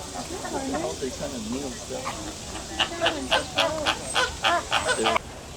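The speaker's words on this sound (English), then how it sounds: "The zoo's flamingos." Flamingos at a zoo call in a loose chorus of nasal, goose-like honks that grow more frequent toward the end, heard over a busy outdoor background with people talking nearby.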